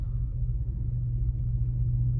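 A 1992 Cadillac DeVille's engine idles in drive, a low, steady rumble that stays close and even for the whole stretch with no voices over it.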